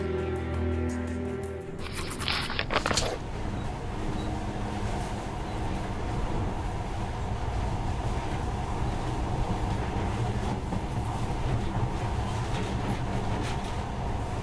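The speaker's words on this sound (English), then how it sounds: "But now, this monorail seems magic, doesn't it?" A monorail runs in the video game Metro Last Light, with a steady, loud rumbling roll that holds after a brief clattering start.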